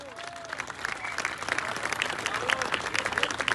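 An audience at a French political rally for Les Patriotes applauds speaker Alexandre Achard, a thick wash of many hands clapping that swells slightly and holds steady for a few seconds.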